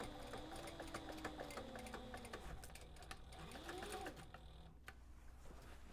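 A sewing machine runs in steady stitching bursts with a rhythmic mechanical whir, stopping and restarting as fabric is guided along, close and fairly quiet with no talk over it.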